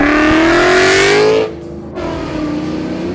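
A Ford Mustang S197 engine revs loudly and close, its pitch climbing steadily before the throttle snaps shut and it drops back to a rumbling idle.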